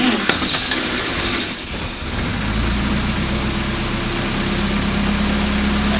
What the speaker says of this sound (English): Give it a bit of choke for a while because it's such a sluggish old engine